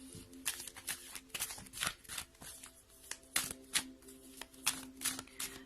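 Oracle cards from the deck « Je suis à ma place » shuffled by hand ahead of a card draw, giving a close, steady run of crisp riffling flutters and soft slaps repeating about every half second, over a faint electrical hum.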